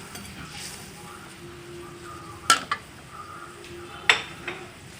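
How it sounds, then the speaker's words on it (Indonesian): Fried fish goes into a pot of broth for rice vermicelli soup with two sharp metallic clinks of a utensil against the pot. Faint bubbling and a soft sizzle continue between them, with no talking. "Masukkan ikan yang sudah digoreng."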